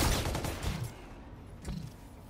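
A few quick bursts of assault rifle fire from the X-EON in a shooter video game, fairly faint and fading, with short gaps between volleys.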